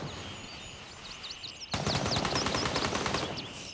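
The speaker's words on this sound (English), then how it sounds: "Oh, shots." Rapid gunfire in the video game Gray Zone Warfare begins after a quieter stretch of ambient noise and birdsong, a sudden burst of fast automatic shots cracking in a steady rattle at mid distance.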